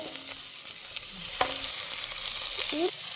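Spices and chopped tomatoes fry in a pan with curry leaves, a steady close sizzle under occasional spoon scrapes and clinks against the metal as the mixture is stirred.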